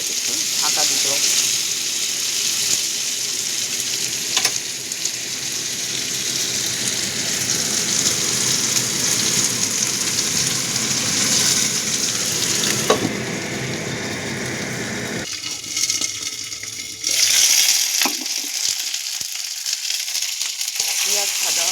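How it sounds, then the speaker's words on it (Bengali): Onion and pointed gourd fry in a pan with a loud, continuous sizzle, broken by occasional stirring clatter and short pauses near the end. "এটার সঙ্গে পেঁয়াজটাকে ভাজা হবে"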